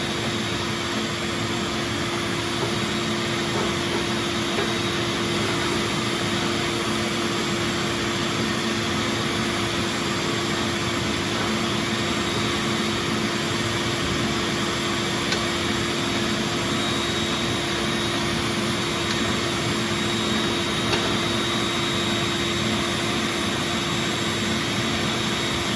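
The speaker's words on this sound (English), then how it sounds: "Use the vacuum to keep the dust out of the room." A vacuum cleaner cleaning dust from a pellet stove runs nonstop with a steady, loud, whining roar that holds an even pitch from start to finish.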